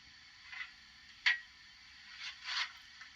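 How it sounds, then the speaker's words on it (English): Coal shoveling from a DCC sound-fitted Dapol Lydham Manor 7827 model steam locomotive, a few faint, scattered scraping scoops and one sharper clink, thin and tinny from a small onboard speaker, with no talking. "Coal shoveling 4."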